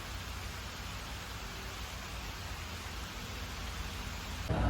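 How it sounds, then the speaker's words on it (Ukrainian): Heavy rain pouring steadily outdoors in Mirissa, Sri Lanka, a dense unbroken hiss of drops on surfaces, loud and even throughout, swelling slightly at the very end. "тому що в нас лютий дощ"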